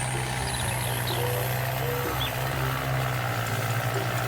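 A Kubota M7060 tractor engine in Farming Simulator 19 drones steadily at a low pitch, pulling a hay baler through hilly woodland, with a constant loud hum and faint higher tones above.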